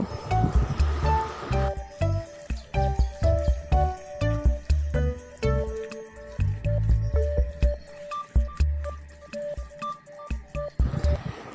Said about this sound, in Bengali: আর সরিষার তেল দিয়ে দেব এক টেবিল চামচ পরিমাণ দিয়ে আমি সবগুলো উপকরণ হাত দিয়ে খুব ভালোভাবে মেখে নেব